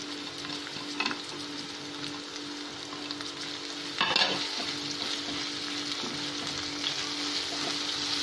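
Softened onions with salt and green chillies sizzle steadily in a pan, close and continuous, with occasional scraping stirs and a louder clatter partway through, no voices.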